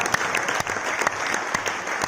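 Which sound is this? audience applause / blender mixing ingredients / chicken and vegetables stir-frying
audience applause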